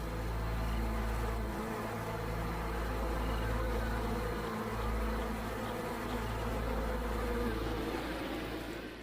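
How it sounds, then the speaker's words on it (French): A honeybee swarm hums steadily inside the hive at the close of winter, a dense, continuous buzzing that stays loud and even throughout with no voices. "À l'intérieur, l'essaim s'active en prévision de l'été."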